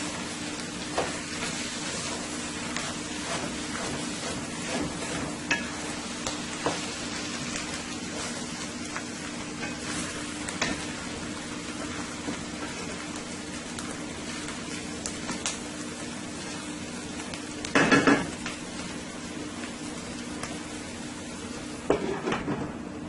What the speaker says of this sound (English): I'm going to let it fry for an additional 2 minutes.